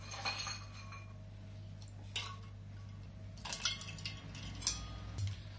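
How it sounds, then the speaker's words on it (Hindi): Ice cubes dropped into a glass of cold soda water for a non-alcoholic lemon mojito, giving a few scattered clinks and clatters at close range over quiet kitchen hum, no talking. "थोड़े से बर्फ के टुकड़े डाल देंगे।"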